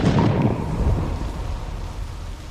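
A loud, deep rumble of thunder rolls close by and then slowly fades away, with a broad roar that tapers off over a couple of seconds.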